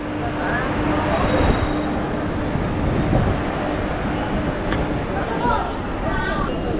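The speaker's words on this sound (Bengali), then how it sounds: "তো এখন ট্রেন ছেড়ে দিয়েছে, এখন সময় হচ্ছে 7:42, আর এখন সবে ট্রেন ছাড়লো।" A Sealdah–Barrackpore local train pulls away from the station with a steady low rumble and rattle of the carriages, with some muffled voices in the background.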